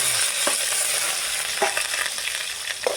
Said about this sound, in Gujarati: તેલ ગરમ થઈ ગયું છે, પછી નાખીશું જીરું.